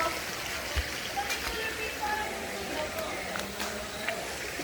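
Clear water of a natural hot spring river runs over rocks at a resort in Calauan, Laguna, a steady, soft rushing and trickling close by, with people talking over it.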